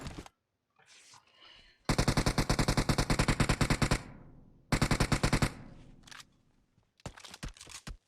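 Rapid automatic gunfire in the PUBG Mobile video game, two long loud bursts of fast shots with shorter bursts and isolated shots between brief silences.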